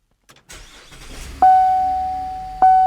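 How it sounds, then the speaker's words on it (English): A Buick LaCrosse started by push-button with the brake pressed: a short starter crank catches into a running engine, followed by two sustained electronic chimes, the second arriving about a second after the first. "we should be able to start the vehicle as normal. So brake, stop start button."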